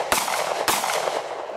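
Two sharp handgun shots ring out about half a second apart at close range on a shooting range, each a loud crack followed by a brief echoing decay.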